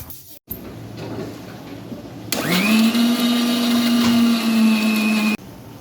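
An electric spice grinder pulverises whole spices for biryani, starting abruptly with a loud steady whine that climbs slightly in pitch as it reaches speed, running about three seconds alone near the mic before cutting off against quiet room background.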